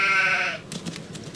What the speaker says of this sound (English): Oh, ooh, sheep.